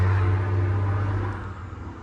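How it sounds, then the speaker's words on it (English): A heavy vehicle rumbles past close by, a loud low engine drone that fades slightly toward the end. "sorry about that, loud truck."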